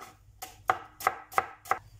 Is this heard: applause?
no